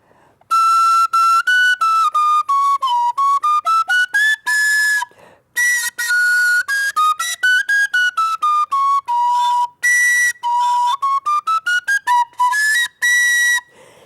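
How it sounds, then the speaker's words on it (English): A breathy, pure end-blown flute tone plays a quick run of short notes rising and falling in pitch, with a brief pause midway, loud and close. "So they're called end-blown flutes because you're blowing in the end of them."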